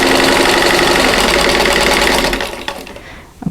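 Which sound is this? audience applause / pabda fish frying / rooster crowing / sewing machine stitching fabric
sewing machine stitching fabric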